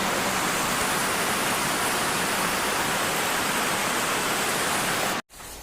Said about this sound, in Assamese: বৰষুণ ইমান দিছে, মোৰ মাতটো চাগে শুনাই নাই